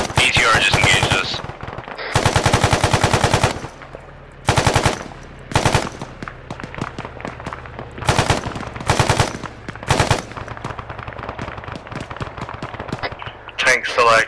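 BTR armored vehicle machine gun fire in the game Arma 3: loud, rapid bursts of automatic fire in several separate volleys with short gaps between them, with voices talking over the shooting.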